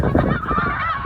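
Geese honk in a dense, overlapping chorus during a goose hunt in Alberta, a steady clamor of many birds calling fairly close and loud.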